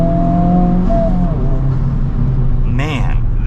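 A 2024 Honda Civic Type R accelerating on a test drive, its engine note rising in a steady loud drone from inside the cabin while someone talks over it.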